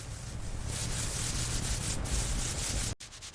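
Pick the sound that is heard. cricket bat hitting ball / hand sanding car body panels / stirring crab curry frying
hand sanding car body panels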